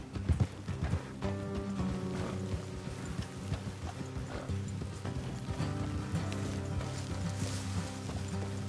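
Horses clip-clopping along a road in the video game Red Dead Redemption 2, hooves thudding in an uneven trotting rhythm, close and steady under a layer of background game music.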